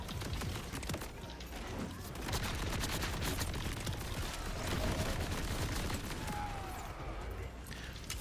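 Explosions and gunfire in the Borderlands video game crackle continuously in rapid, dense bursts throughout, loud and chaotic with faint voices mixed in.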